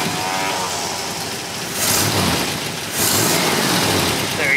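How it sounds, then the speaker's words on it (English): A 1963 Studebaker Hawk engine cranks and starts, with two surges in loudness as it catches and revs, producing a steady broadband mechanical roar close by and no talking. "now actually I'm just going to start up the vehicle here"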